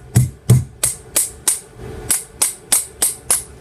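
A small mallet taps a part into the firing pin channel of a Glock pistol, about ten sharp metallic taps in a steady rhythm, close and distinct with no talk.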